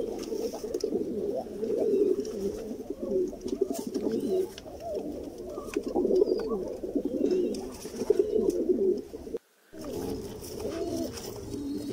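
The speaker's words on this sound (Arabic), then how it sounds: "حمام شغال على وش بيضة" A pair of homing pigeons set up for egg brooding give a steady, soft, low cooing that goes on almost without a break, close by. The sound cuts out for a moment, then the cooing resumes.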